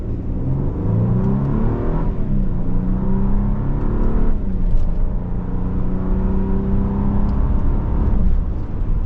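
A 2025 Infiniti QX80 accelerates hard under paddle-shifter control, its engine roaring continuously and loud, with brief dips in pitch around each gear change.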